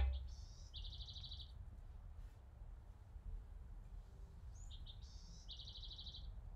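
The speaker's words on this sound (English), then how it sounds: "Listen to those birds." Birds sing outdoors, two bright, repeated chirping phrases sounding a few seconds apart, clear but fairly soft over a low background rumble.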